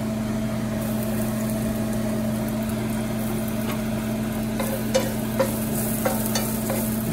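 Squash is sautéed in a pan while it cooks. A soft steady sizzle sits under a constant low hum, and a few utensil clinks and scrapes come near the end.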